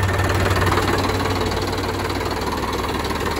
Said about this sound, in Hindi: अबे चला रही ट्रैक्टर यार।